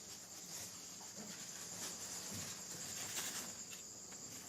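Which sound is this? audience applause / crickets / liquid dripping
crickets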